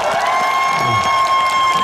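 Crowd applause and cheering from an audience at a 2017 beach concert on Ilsan Beach, a steady dense wash of clapping with scattered whoops, loud and continuous throughout.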